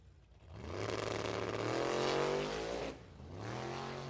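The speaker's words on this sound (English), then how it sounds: "Spins tires about 60 feet out." A black 1988 Mustang coupe with a 427 engine launching at a drag strip, tires spinning as the engine screams loudly up through its revs, lifting briefly, then pulling hard again.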